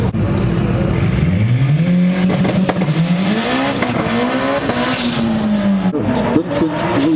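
A BMW racing at a car meet, with its engine revving and climbing in pitch and tires squealing. The car is loud and close, its revs rising and falling over several seconds against crowd noise.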